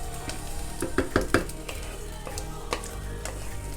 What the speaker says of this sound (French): Et là je vais faire frire cela.